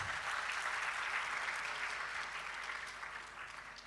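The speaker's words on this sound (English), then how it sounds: "Another round of applause," Audience clapping at an opening session of an African women-in-STEM conference, a steady round of applause that gradually eases off toward the end.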